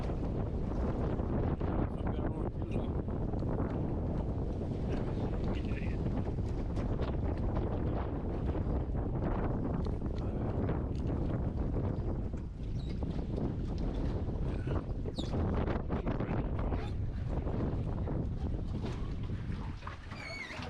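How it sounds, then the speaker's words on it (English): Strong wind from a cold front buffets a houseboat on rough water, a constant loud rushing roar with heavy microphone rumble and gusty swells that continue for the whole stretch. "Get out that wind."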